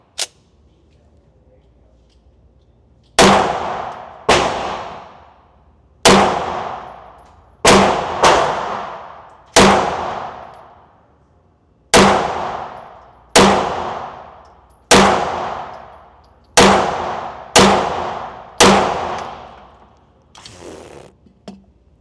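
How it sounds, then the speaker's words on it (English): Sharp, loud CZ pistol shots ring out close by, roughly a dozen of them spaced a second or two apart at an irregular pace, each a crisp crack trailing into a brief echoing decay, with a softer report near the end. "So let's look at how this gun shoots."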